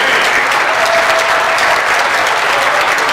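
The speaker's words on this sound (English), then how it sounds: "Charlie, let's have a big round of applause for Charlie Stone of KFCJ." Steady applause from an audience at a charity auction event, continuous and fairly loud clapping filling the whole stretch with no talk over it.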